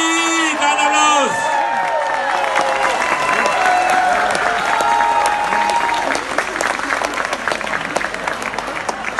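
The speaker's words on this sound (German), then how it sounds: "Den ersten Applaus gibt's mal für den Mann, der hier schon 3 Stunden als Disc-Jockey gearbeitet hat" Open-air Schlager concert crowd in the Harz breaks into loud, sustained applause with cheers and whoops, steady throughout, while a voice calls out over the noise near the start.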